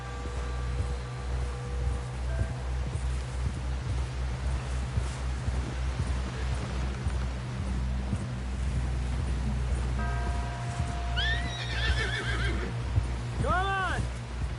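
Horse neighs and whinnies in a video game while riding toward a camp, with hoofbeats and a low steady ambient bed; a couple of bright whinnies rise near the end.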